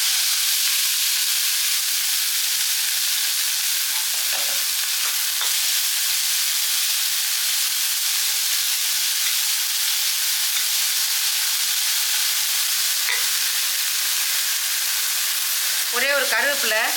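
Steady, loud sizzling of chopped spring onions frying in hot oil for rava idli, continuous hiss throughout with a brief stir near the end.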